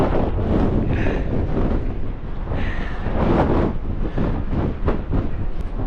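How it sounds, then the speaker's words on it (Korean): Strong, gusty wind buffets the microphone on the open deck of a cruise ship sailing through an Alaskan national park, a loud low rumble that surges and eases in uneven gusts throughout. "바람이 엄청 불어요."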